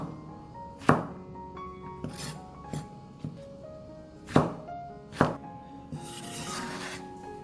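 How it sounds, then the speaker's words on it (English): A knife chops bottle gourd into bite-sized pieces on a board, giving several sharp, irregularly spaced thunks in a quiet kitchen, with soft scraping between them. "we cut the bottle gourd into bite-sized pieces"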